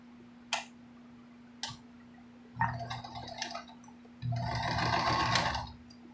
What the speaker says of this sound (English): So my sewing machine came out around 1980 or 81